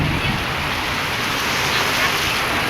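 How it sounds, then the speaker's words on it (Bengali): Heavy rain pours down during a thunderstorm in the late afternoon, making a dense, steady hiss that stays even and loud from start to finish. "প্রচণ্ড বৃষ্টি"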